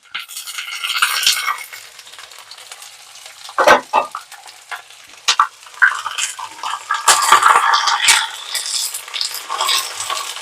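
Curry leaves hit hot oil with sliced onions for an okra fry, giving loud bursts of crackling and spattering sizzle up close, with stirring clatter between the flare-ups and no talking.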